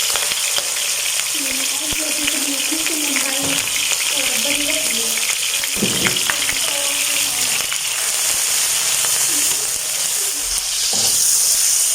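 Ghee sizzling and frying in a pan while cooking Chinese biryani, a steady bright crackle throughout with a person talking over it.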